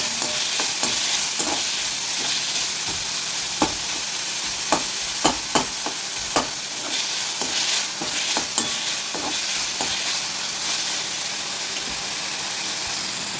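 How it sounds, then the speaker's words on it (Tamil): Green chili and ginger sauté in a pan with a continuous close sizzle, marked by intermittent scrapes and taps of a stirring spoon and no speech over the frying. "இஞ்சியும் சேர்த்து இப்போயே வதக்கிடுவோம் எல்லாத்தையும் நல்லா வதக்கி அள்ளிக்கலாம்"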